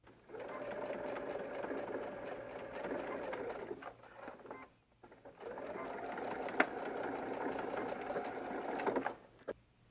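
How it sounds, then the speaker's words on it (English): A sewing machine stitches through layered lining and exterior fabric of a small dumpling-style pouch in two steady motor-driven runs, each about four seconds, with a brief pause between them. The whir stays close and fairly loud. "we'll be sewing through both lining and exterior layers"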